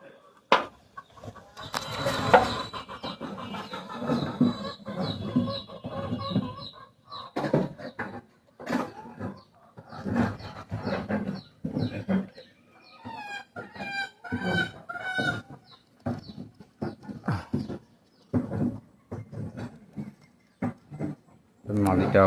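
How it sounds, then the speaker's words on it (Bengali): Male Pakistani 128 pigeon cooing and calling in repeated bursts close by, over a stretch of ongoing talk and other birds in the background. "আর এটা 128-এর একটা নর কবুতর।"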